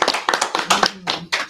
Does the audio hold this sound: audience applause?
yes